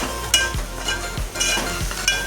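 Red chili spice masala sizzles in hot oil for misal while a spoon scrapes through it in three brisk, evenly spaced stirs, close and alone.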